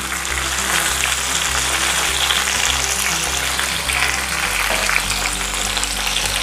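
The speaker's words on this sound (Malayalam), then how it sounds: "നല്ലോണം ഇളക്കി ഇതൊന്ന് വാട്ടിയെടുക്കാം" Tomatoes sauté with fenugreek and cumin for sambar, giving a loud, steady sizzle that runs unbroken for several seconds over a low, even hum, with no voices.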